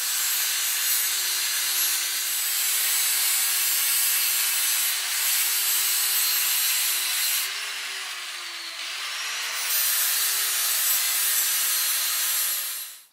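An angle grinder works a steel piece for a BMW E36/E46 angle kit, a loud continuous grinding rasp with a steady motor whine that dips briefly under load before winding down at the end.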